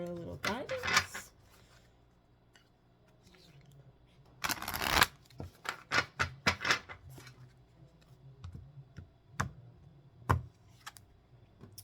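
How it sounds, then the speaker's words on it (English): Keepers of the Light oracle cards being shuffled and handled, giving bursts of papery riffling and scattered taps and clicks separated by quiet gaps, fairly faint and close. "let's just get a final card from the Keepers of the Light for a little guidance"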